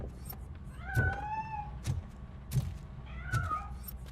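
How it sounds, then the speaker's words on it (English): A cat meows repeatedly in the video game Robocop Rogue City, several drawn-out plaintive calls spaced about a second apart, fairly faint over low background noise with soft thumps. "That cat must be hiding inside."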